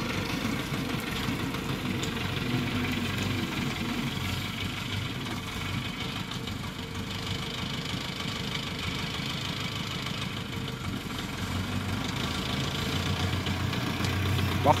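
Belarus 922.3 tractor engine running nearby, a steady knocking diesel chug at idle that holds evenly throughout and rises slightly at the end.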